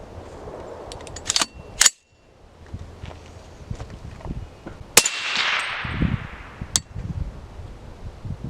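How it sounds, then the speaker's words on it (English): Suppressed rifle shot through a Jaguar CAX762 suppressor firing a supersonic round at a shooting bay, one sharp loud crack followed by clattering, thuds and lighter clicks. "We're just gonna fire one round and then we're gonna fire a Subsonic."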